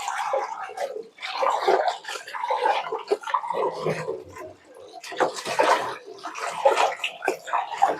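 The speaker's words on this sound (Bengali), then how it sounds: "বন্ধুরা, আমি মাছগুলো এখন ধুয়ে নিই ভালো মতো।" Fish being washed by hand in water, with irregular close splashing, sloshing and rinsing pours in bursts, no voices.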